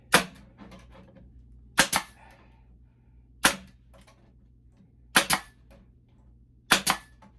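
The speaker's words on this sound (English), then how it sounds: "And staple every 6 to 8 inches." Staple gun driving staples into wooden Layens beehive parts: five sharp, close snaps spaced about every one and a half seconds, with faint handling noise between shots and no speech.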